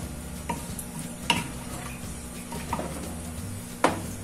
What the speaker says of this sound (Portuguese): Vamos mexer.